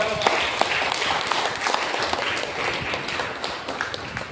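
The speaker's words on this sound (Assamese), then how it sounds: "বলা আমি জোৰকে তালি বজাই চব" A church congregation claps loudly at a Christian worship service, producing a dense, continuous wash of applause that stays steady throughout, with no talk on top.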